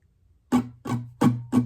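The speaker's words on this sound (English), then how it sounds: "And then there's pattern 5, which sounds like this." Four quick acoustic guitar strums in a brisk, uneven rhythm, close and clear with no voices, from a festive song.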